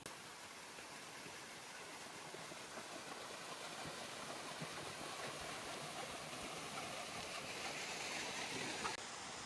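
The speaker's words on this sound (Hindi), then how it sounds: "यहाँ पर मुझे एक झरना दिखाई दिया" Mountain waterfall on the Valley of Flowers trek in Uttarakhand, a steady, dense rush of falling water that roars continuously at an even level throughout, with no voices.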